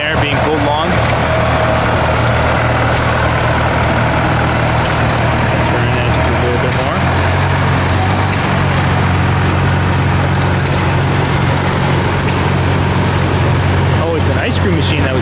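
A single-cylinder 1.5 hp John Deere engine drives an ice cream machine on a trailer in a Minnesota parade, chugging loud and close with a steady idling thump under constant outdoor noise.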